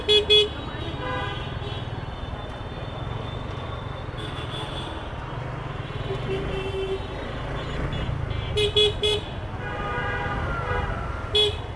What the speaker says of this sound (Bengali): আজকে তো ভালো জ্যাম।